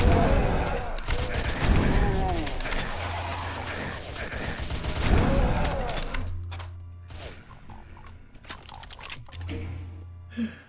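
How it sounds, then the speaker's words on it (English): Rapid gunfire and booming blasts from the Super Shotgun in a Doom playtest map fill the first half loudly, then thin out to scattered clanks and shots. "Oh, wait, Super Shotgun."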